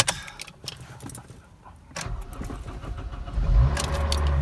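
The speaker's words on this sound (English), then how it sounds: "Can't believe it started up." A Honda Civic Type R EP3, parked for a year and just given a charged battery, cranks and catches, its engine rising into a loud, steady idle near the microphone after a few seconds of quieter rattling.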